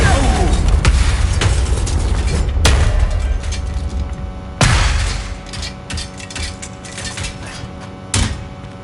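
A Confringo blasting curse goes off in Hogwarts Legacy, heard as a loud, booming explosion followed by several further sharp bursts and crashes over rumbling game sound, with a voice briefly audible beneath.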